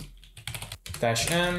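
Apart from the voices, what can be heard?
typing on a computer keyboard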